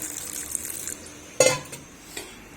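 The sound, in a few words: water being added to pakora batter while mixing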